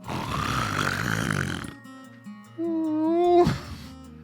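A voice imitates loud, exaggerated snoring, a rough rasping inhale followed by a wavering, wheezy whistle that rises and cuts off sharply.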